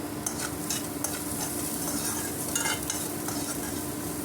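Spoon stirring turmeric into chopped onion and green chili in a bowl for an omelette, soft repeated scraping and clinking with a faint sizzle behind, no voices.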